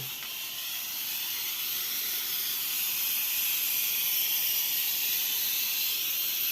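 An H2O X5 steam mop releases a steady, loud hiss of steam that runs unbroken and grows slightly louder over time, with no voices over it.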